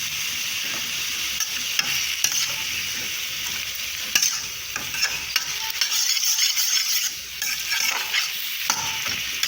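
Jamaican cabbage and mushroom stir-frying on high heat, a bright, continuous sizzle punctuated by repeated clicks and scrapes of the utensil against the pan as the food is turned, close and loud with no speech.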